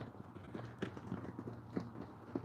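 Horses move about close by, their hooves giving soft, uneven clip-clops on the ground. A low hum sits steadily underneath.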